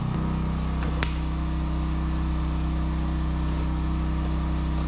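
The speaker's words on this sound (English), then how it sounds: "it's gonna be a little noisy. I got a generator running" A portable generator runs steadily at a carpentry job site, giving a constant loud droning hum with no breaks. A single sharp tap or clink sounds near the start over the engine noise.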